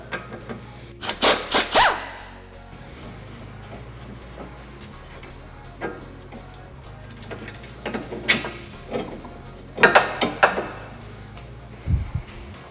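A ratchet works the 17 mm fastener on the front sway bar end link of a Nissan 350Z, making a few short, sharp bursts of clicking close by, separated by quieter pauses.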